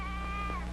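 A single sheep bleats once, a short wavering cry over a low steady hum in the background.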